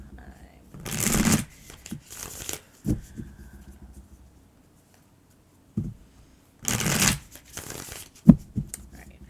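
A tarot deck is shuffled and knocked in two loud bursts of riffling card noise, separated by quieter taps and handling sounds, with a brief sharp knock near the end.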